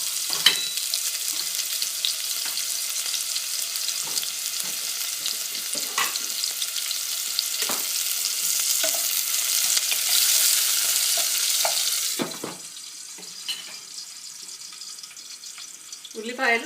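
Onions with fenugreek seeds sizzle loudly in a pan for a fish curry, with occasional stirring clicks and scrapes; the sizzle drops sharply toward the end, leaving quieter clatter.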